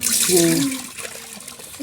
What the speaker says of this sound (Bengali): ভাবি আমার বালতি থেকে পানিগুলা চাউলের ভিতরে দিল এগুলোতে চাউল ধুচ্ছে